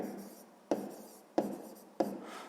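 Hand-writing numbers on paper for a sixth-grade maths exercise: three sharp pen strokes land at even intervals, each fading into a soft scratching tail, close and quiet with no voices.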